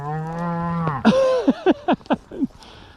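Cattle on a drive moo loudly nearby, one long low call followed by several shorter bellows in quick succession, outdoors.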